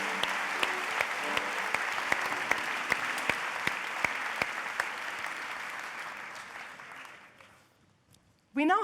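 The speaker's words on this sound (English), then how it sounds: "A warm applause for the last 6 winners in category" Ceremony audience applauds award winners at the European Heritage Awards in Madrid, a warm, even burst of clapping that fades out after about seven seconds before a voice begins speaking.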